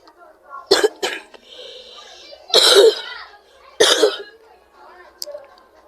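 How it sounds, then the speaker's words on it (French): Several harsh, abrupt coughs in quick bursts, close and loud, with short quiet gaps and a faint throat sound between them. "Excusez-moi pour la toux"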